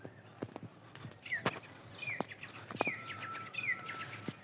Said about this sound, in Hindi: ये कोयल की आवाज़ कितनी प्यारी लगती है